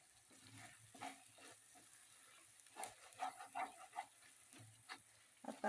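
Masala for bhogi vegetable curry fries in oil with a soft, quiet sizzle, punctuated by intermittent clinks and scrapes of stirring in the pan.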